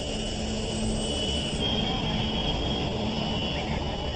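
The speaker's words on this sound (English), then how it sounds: "We can accelerate up to virtually to takeoff speed, and then if we decide to stop, why, we could stop the airplane" An airplane with no passengers and little fuel accelerates down a runway toward takeoff speed, a steady broad engine roar with a high whine heard continuously from inside or nearby.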